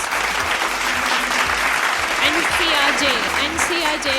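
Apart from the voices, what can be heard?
applause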